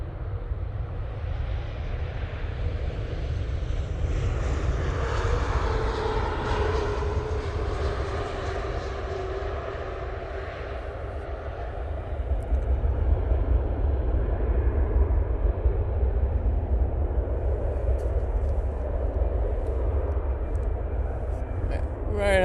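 An F/A-18 Super Hornet jet flies past with a sustained roar and sweeping tones that shift pitch as it passes, then a heavier rumble that builds partway through.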